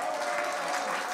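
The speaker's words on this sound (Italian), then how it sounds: "E un applauso grande per la classe di cuginetti che sono connessi." Brief applause at the close of an online education event, a soft, even wash of clapping, fairly faint and continuous.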